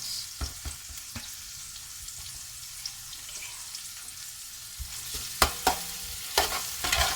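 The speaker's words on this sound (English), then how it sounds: "just stirring gently, so you move about your onions so it cooks nice and evenly" Onions and chili fry in a pot, a steady low sizzle broken by several sharp scrapes and clatters of a spoon stirring, growing busier toward the end, with no talking.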